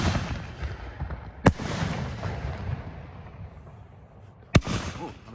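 Two sharp, loud blasts from black shell fireworks, about three seconds apart, each followed by rumbling fallout over a constant outdoor background.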